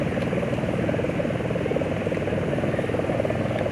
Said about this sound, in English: Sounds like one of the helicopters is heading more this way.